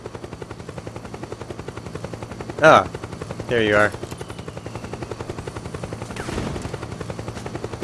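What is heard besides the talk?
helicopter in video game Metal Gear Solid 4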